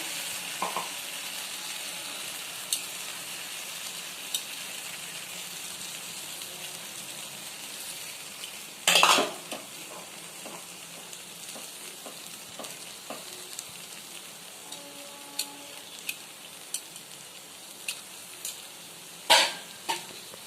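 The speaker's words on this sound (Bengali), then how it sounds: "পেস্টটা দেওয়ার পর এবারে আমি একটু নেড়ে চেড়ে নিচ্ছি" Spice paste fries with pointed gourd over low heat in a steady, quiet sizzle, broken by occasional light taps and two louder scraping clatters of a utensil stirring the pan.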